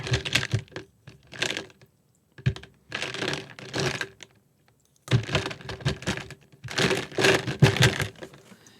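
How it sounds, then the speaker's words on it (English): Hard glassy clicking and rattling comes in bursts with short pauses as a paintbrush is rinsed over glass marbles in the bottom of a water jug. No voices. "glass beads, or not beads, but like marbles, in the bottom of my water jug"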